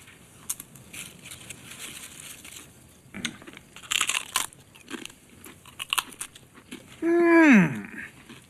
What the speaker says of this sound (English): Your chip adds a needed crunch to our superior flavoring.